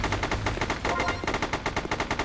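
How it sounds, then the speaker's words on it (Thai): Rapid automatic gunfire from a mobile shooter video game, loud and continuous bursts in a steady rattling rhythm with barely a pause, no voices over it. "กูยิงปืนเอากูยิงไม่หยุดเลย"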